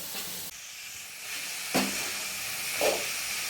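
Vegetables with onion steam in a pan over a wood-fired stove, a steady close hiss with a couple of soft knocks and bursts of sizzle, no talking.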